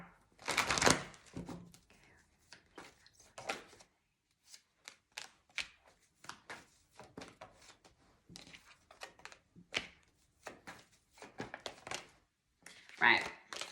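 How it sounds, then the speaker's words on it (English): Tarot cards are shuffled and drawn, giving a loud burst of riffling near the start, then soft intermittent flicks and slaps of card stock. A final flurry comes at the end, with a nearby voice talking throughout. "All right, I'm gonna get a couple of cards here."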